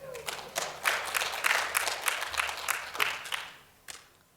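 Scattered audience clapping at a social justice university talk, starting sparse and building into a brief uneven burst of hands before tapering off, with a few individual claps standing out near the end.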